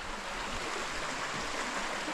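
A river pours down a waterfall, a dense, unbroken rushing roar of water that stays loud and even from start to finish.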